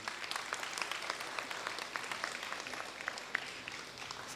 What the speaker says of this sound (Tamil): உங்கள் பாராட்டுதலாக அழகாக ஒரு கைத்தட்டல் தட்டலாமே அவங்களுக்காக.